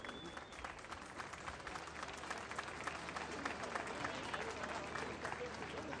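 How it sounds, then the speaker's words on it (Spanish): A large crowd at an outdoor parade in Tucumán applauds a cavalry regiment's military band, a dense continuous wash of clapping heard from a distance at low level, with a voice over it. "El aplauso de todo el pueblo para la banda militar del Regimiento de Caballería de Exploración de"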